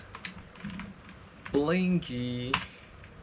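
Quick, light clicks of a computer keyboard as text is typed close by in a quiet room, with a voice speaking over the middle stretch of the tapping.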